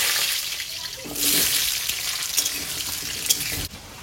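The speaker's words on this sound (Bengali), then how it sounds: "পেঁপে আর আলুটা আগে তেলে ভেজে নেব।" Papaya and potato frying in hot oil in a home kitchen give a soft, steady sizzle throughout, with brief louder bursts and some faint clinks, fairly quiet and without talk.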